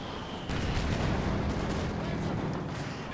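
Machine gun and tank fire in the real-time strategy game Company of Heroes 2, a dense crackle of gunfire and heavy booms that swells after a short pause and carries on steadily, with commentary over it.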